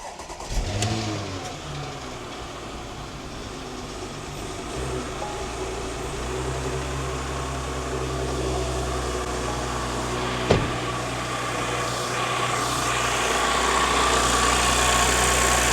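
A faulty Porsche Macan engine cranks and fires into a steady mid-pitched idle that slowly rises, with a sharp click partway through, running alone without talk.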